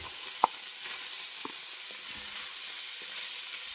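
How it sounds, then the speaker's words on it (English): Saltfish and onion sauté in a hot pan, a soft continuous sizzle with a couple of sharp utensil knocks and light stirring scrapes, close and alone without talk. "I'm going to saute the saltfish."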